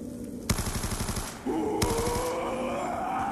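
Fully automatic M1216 shotgun fired in Call of Duty Zombies grief mode on the Town map: a rapid string of about ten sharp shots in quick rhythm, then a second short burst, loud and close over a steady game hum.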